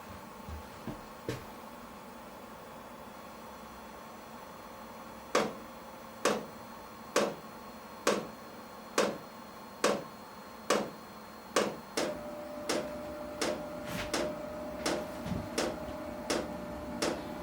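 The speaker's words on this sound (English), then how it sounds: "the fuel pump should start. It'll start ticking." A diesel heater's fuel pump ticks steadily, about one sharp tick per second, close and clear over a faint background hum, starting after a few scattered clicks; set on a farmstead in extreme cold.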